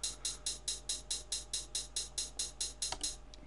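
Hi-hat programmed in FL Studio on every second step, a crisp, evenly spaced run of short ticks repeating steadily and clearly with nothing else playing.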